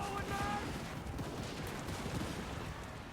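Massed musket or gunfire in a Total War: Warhammer battle between Empire and Bretonnian armies, a dense crackling barrage of overlapping shots filling the whole stretch at steady loudness.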